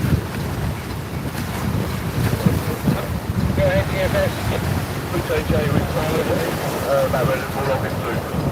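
A racing powerboat fitted with a modified engine runs a Torquay powerboat race, its steady engine roar blended with heavy wind buffeting and sea noise throughout, with faint voices in the background.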